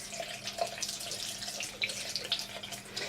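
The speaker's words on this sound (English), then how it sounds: "I'm just going to rinse it under the water" A makeup brush caked with foundation is rinsed under a running tap, giving a soft, steady splashing hiss of water at close range with small irregular spatters.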